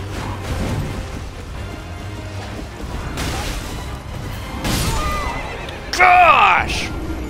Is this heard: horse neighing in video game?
yes